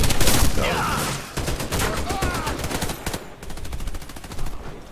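Rapid bursts of automatic gunfire in the Warface team deathmatch multiplayer shooter on the Grand Bazaar map, loud and continuous with shots overlapping, crackling volleys that briefly thin out then resume.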